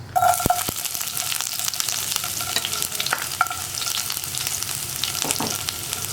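Long-sliced garlic fries in oil that has just popped mustard seeds, giving a steady dense sizzle throughout with a few sharp utensil clicks and scrapes from stirring.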